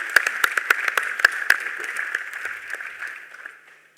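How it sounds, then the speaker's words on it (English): An audience applauds the foreign minister at a political committee meeting, a burst of clapping from a room full of people that thins out and fades over about four seconds with no talk. "let's give a sound round of applause to the foreign minister"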